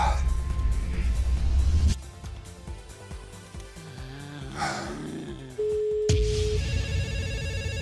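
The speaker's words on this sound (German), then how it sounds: "Ich warte darauf, dass das Telefon klingelt." An electronic telephone ring sounds near the end of a live call-in TV show, a steady tone followed by a repeating ringtone pattern after a stretch of muffled background noise.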